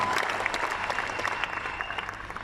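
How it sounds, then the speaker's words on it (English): Applause from the crowd at a NeoLife Impact Summit in South Africa, rolling on for a couple of seconds as a fairly distant, even patter of many hands. "Let's give Drew a big round of applause."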